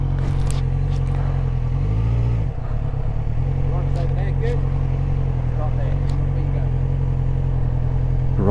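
A motorcycle idles and rides at low speed during a training test, with a steady mid-pitched engine drone, a brief dip and change in tone, and someone talking over it throughout.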